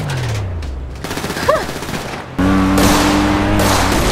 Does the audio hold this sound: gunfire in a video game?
yes